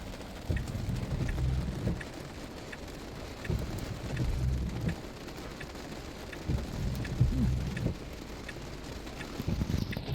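Steady heavy rain falling on a moving car, a continuous wash of drops with low rumbling underneath, moderately loud and constant.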